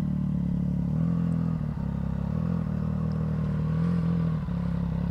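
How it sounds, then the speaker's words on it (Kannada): A Triumph Daytona 660 motorcycle fitted with an Akrapovic full-system exhaust idles close by with a deep, steady, burbling rumble and slight throttle wobbles, and no one speaks over it. "ಆಕ್ರಾ ಫುಲ್ ಸಿಸ್ಟಮ್ ಎಕ್ಸಾಸ್ಟು."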